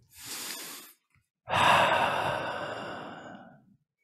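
Two deep breaths during an intermediate vinyasa yoga session: a short inhale, a pause, then a long, audible sighing exhale, close and fairly soft.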